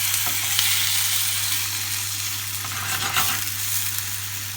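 Steady sizzling and crackling of spicy kebab-style chicken frying in a hot pan, continuous and close, with a low hum underneath and no talking.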